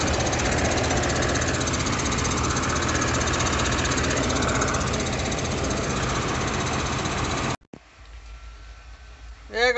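Tractor engine idling close by during a mechanized sugarcane harvest, a steady loud rumble that cuts off abruptly near the end, leaving quieter background sound.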